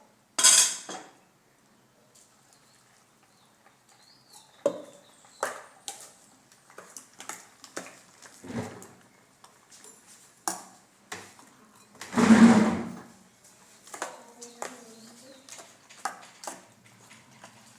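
A spoon stirs curd rice in a bowl, making a series of soft clinks and scrapes with quiet pauses between them, plus one louder knock of metal on the dish near the middle.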